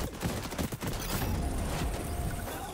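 Hip-fired gunfire in the XDefiant shooter game, a dense rapid burst of shots in the first second followed by continuous loud in-game battle noise.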